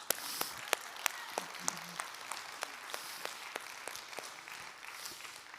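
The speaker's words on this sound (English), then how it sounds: "Let's give her a round of applause." Scattered hand clapping from a small crowd, moderately quiet and fairly steady, with individual claps standing out.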